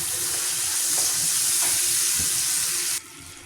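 Whole red and green chillies and spices sizzle and crackle loudly in hot oil for a tadka, a dense steady hiss that drops away abruptly near the end.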